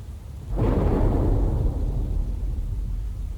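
A thunderstorm in the video game Leisure Suit Larry: Wet Dreams Dry Twice, where a heavy rolling thunderclap breaks in suddenly and then fades into a long, low rumble with no voices over it.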